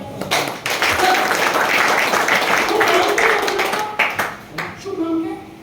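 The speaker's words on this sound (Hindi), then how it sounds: "उनके लिए जोरदार तालियां" Clapping breaks out among an audience at a Hindi-language Kangen water business seminar, a dense burst of handclaps that fades out in uneven taps near the end.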